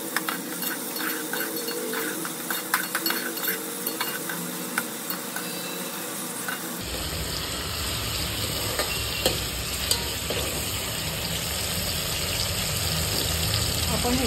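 Tomatoes sautéed and stirred in a pan for matar rice, a steady sizzle with scraping stir strokes, while a persistent background hum and a voice carry through much of it.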